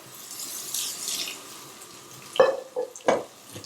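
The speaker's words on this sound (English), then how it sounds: "So you're draining your rice." Water is poured off cooked rice, starting as a soft hiss and then breaking into a few louder splashes and gurgles near the end, close by and with no voices.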